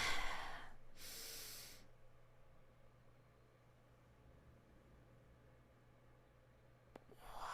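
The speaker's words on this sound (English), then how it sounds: "Another deep breath." A deep breath is drawn in and let out, a soft airy rush near the start, followed by quiet room hiss and a faint click near the end.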